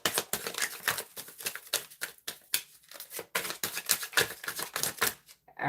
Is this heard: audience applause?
no